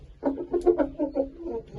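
A fine laying hen clucks close by, a quick run of short rhythmic clucks that rise and settle over less than two seconds with no talking.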